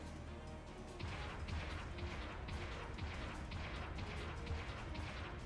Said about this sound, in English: That landing sound is really meaty.